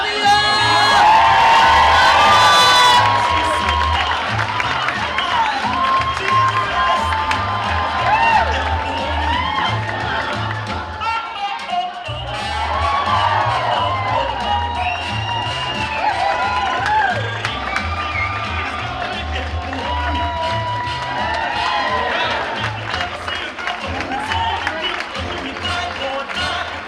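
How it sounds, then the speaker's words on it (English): Cheering, whooping and applause from a crowd at a hospice dance show, with a loud burst at the start and then continuous shouts and clapping over rhythmic dance music, pausing briefly midway. "Tania, give them a round of applause, ladies and gentlemen."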